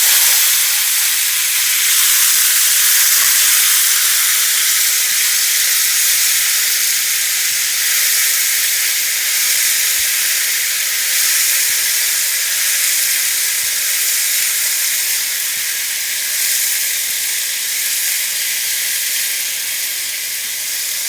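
Boiled jackfruit pieces frying in oil in a pan give off a steady, close hiss and sizzle that holds nearly level throughout, alone without talk.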